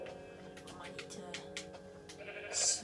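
Sheep bleating in a Minecraft game sound brief and moderately close over a steady game backdrop, with a sharper, louder bleat near the end.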